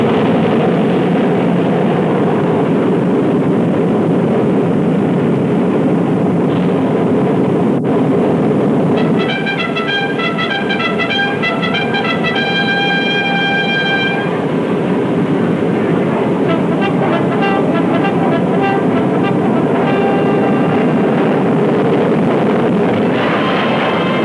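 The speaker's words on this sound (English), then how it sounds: "In a matter of seconds, this 100-ton giant is airborne." A 100-ton flying wing aircraft takes off, its engines giving a loud, steady roar with whining tones that rise and fall over the run, and no voices.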